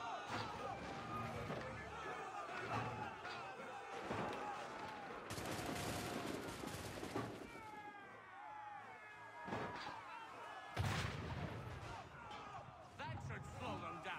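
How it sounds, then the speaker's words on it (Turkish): Cannon fire booms amid combat in Assassin's Creed 3, heavy blasts and crashes mixing with gunfire while a voice talks over the chaotic game battle. "Tek bir top atışı müfrezeyi etkisizleştir. Sadece bir top ateşiyle."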